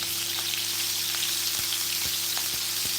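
Fish fries steadily in palm oil, a close, dense sizzle with scattered pops and faint crackles running evenly throughout, with no voices.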